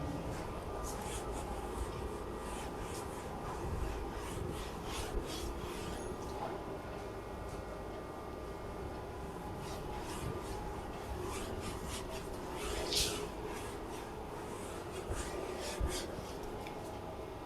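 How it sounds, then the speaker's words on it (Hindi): A board eraser rubbing chalk or marker writing off a board during a Class 12 maths lesson, heard as soft, continuous scrubbing strokes at close range with no talk over it. "तो इसे मैं रब करता हूं"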